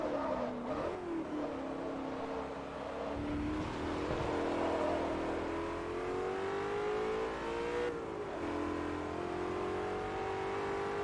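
In the Forza Motorsport 3 racing game, a BMW M8's engine hums and revs through rising and falling tones, fairly quiet and continuous with no speech.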